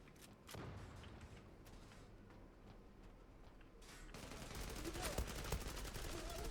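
Rapid automatic fire from an FN FAL Quantum Plus rifle in the online shooter Zula, a fast ticking burst that swells in the last few seconds over a steady low rumble, fairly quiet overall.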